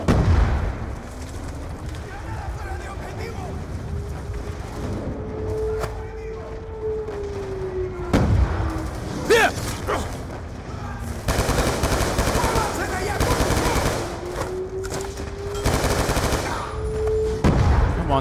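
Gunfire and explosions from Call of Duty Black Ops II: bursts of infantry rifle and machine-gun fire with loud blasts and impacts, set under a rising and falling engine or siren-like drone, with voices calling out throughout.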